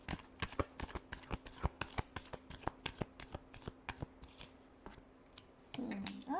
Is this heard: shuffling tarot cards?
yes